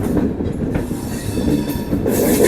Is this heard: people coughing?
no